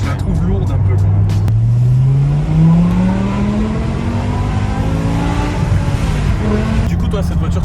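A BMW M6 with a V10 engine drives and pulls hard, the loud engine note rising steadily in pitch through the gears, with people talking over it at times.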